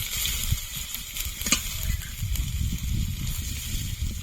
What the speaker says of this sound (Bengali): রসুন আর আদাটা একটু হালকা লালচে করে ভেজে নেব এবার দিয়ে দেব ক্যাপসিকাম কুচি